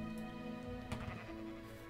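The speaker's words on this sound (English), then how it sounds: "And use the indigo dye on a sheep." A sheep bleats in Tekkit, a Minecraft modpack video game, a single wavering call over a steady tonal game background.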